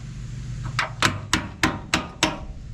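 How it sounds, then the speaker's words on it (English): Six sharp hammer blows ring out at an even pace over a low steady hum, each strike crisp and close. "This is a hammer."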